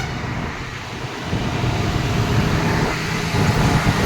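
Traffic on a one-way road on Egmore bridge makes a continuous roadway rumble with several cars and heavier vehicles passing close, growing louder partway through and carrying on without any voices.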